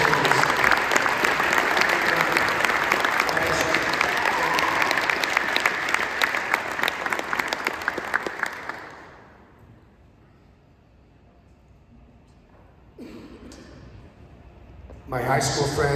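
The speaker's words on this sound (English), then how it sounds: "Have a nice round of applause for Lisa Carboni." Audience applause at an award ceremony, loud sustained clapping for about nine seconds that then fades to near silence, followed by a short burst of voices and another swell of sound at the end.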